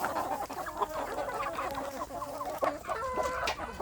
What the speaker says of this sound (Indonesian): Ini ada beberapa ayam yang sedang mengerami ya.